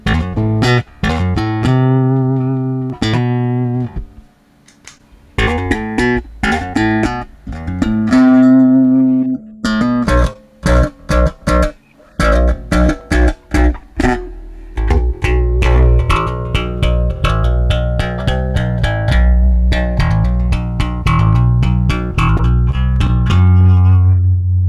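Electric guitar played through an Alexander Calavera phaser pedal alone, without the SuperEgo effect: strummed chords and single-note phrases with sweeping phase coloration, loud and close, no talking.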